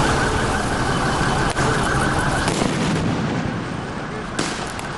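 A firework rocket bursts during a street protest in central São Paulo, a sharp blast standing out from loud, dense crowd and street noise with further thuds and clatter.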